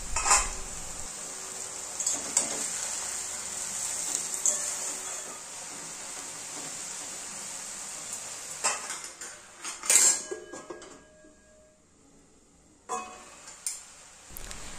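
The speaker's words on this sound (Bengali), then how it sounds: "মাঝে মধ্যে ঢাকনা খুলে নাড়াচাড়া করে দিতে হবে।" Water spinach (kolmi shak) steams in a covered pan without added water, with intermittent metallic clinks and scrapes of a utensil against the pan as the greens are stirred, loud bursts around lid handling, then a quieter stretch.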